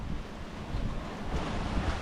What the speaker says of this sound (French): Et le vent est pas régulier.